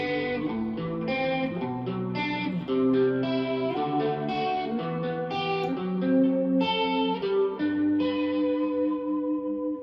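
Electric guitar plays barred chords in a stepping sequence, thick with a shimmering chorus effect and a touch of grit, no talking.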